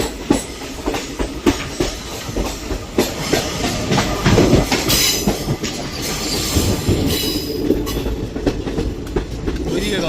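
A train rolls through a tunnel near the Dudhsagar waterfalls, its wheels clattering and squealing in a loud, steady rumble for the whole stretch, with a few faint voices in the background.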